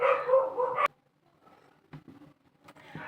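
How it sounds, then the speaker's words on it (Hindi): Dogs barking outdoors in the distance, a few scattered faint barks and yelps heard from inside, following a stretch of close talking at the start. "कुत्ते भौंक रहे थे बाहर।"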